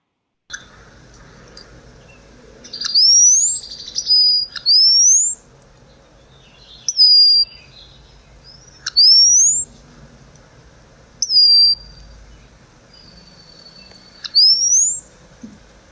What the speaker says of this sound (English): here's a male singing a liquid-sounding series of notes, followed by a thin sliding whistle